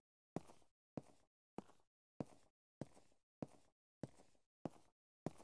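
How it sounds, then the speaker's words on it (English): Footsteps in a video game, ten evenly spaced loud, sharp steps with a short decay after each, heard alone against near silence. "Oh, my footsteps are so loud."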